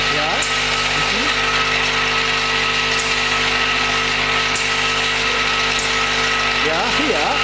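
A wood dowel double-end chamfer machine feeds dowels with a loud, constant mechanical hum and grind, punctuated by periodic clunks and ratcheting clicks as pieces advance, while people talk nearby.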